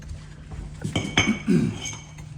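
A steel Halligan bar forcing a door during forcible entry training, giving a few sharp metallic clanks and a grinding creak against the door frame over a steady background hum.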